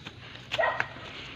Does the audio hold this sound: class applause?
no